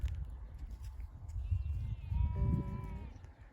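Several sheep bleat nearby over a low rumbling background, with one long wavering bleat standing out toward the end.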